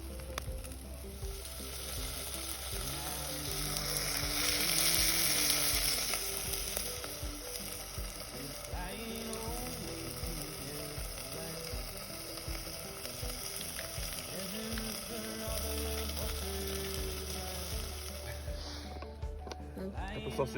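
Sausages sizzle and spit in a pan on a camp stove outdoors, a steady close frying hiss with crackling pops that swells briefly, while people talk casually nearby.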